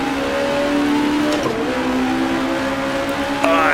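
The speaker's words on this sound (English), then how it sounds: "Sweep it through, try to get on the throttle, see just how quick they are in a straight line." A vintage-era race car accelerates hard out of the final corner on an opening lap, its engine note sustained and loud with a rising pitch and a sharp upshift near the end.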